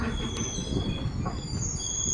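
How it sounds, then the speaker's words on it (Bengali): An Agartala special passenger train slows into Mungiakami railway station, its wheels squealing in thin high tones over a steady low rolling rumble; no talking. "আস্তে আস্তে ট্রেন থামতেছে।"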